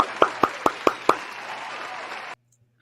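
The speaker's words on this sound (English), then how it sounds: "Let's get some applause in here." Applause at a weekly online wrap-up show: a handful of sharp, close hand claps rise out of a steady wash of clapping, which runs for about two seconds and then cuts off abruptly.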